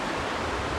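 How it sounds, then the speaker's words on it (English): Rushing water from a waterfall and river at an abandoned road in the woods, a steady, full broadband roar with no pauses, close and continuous. "hang out right here just by the waterfall, or just by the river, listening to the water"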